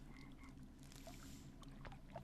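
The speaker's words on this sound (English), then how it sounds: "Should be able to get that frog." Faint frog croaks sound in an outdoor wildlife area of the video game The Lost Crown, a few short calls over a steady low hum of ambient noise.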